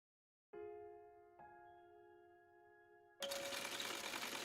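A sewing machine in The Hundred Line video game hums with a steady tonal whir, briefly restarts, then gives way to a louder, harsher mechanical rattle near the end, with no voices.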